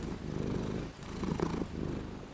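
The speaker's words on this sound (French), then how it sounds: "se glisser dans son cou en ronronnant" A cat purrs close up in a steady low rumble, breath cycles audible as slight swells and a brief pause near the middle, with no voices.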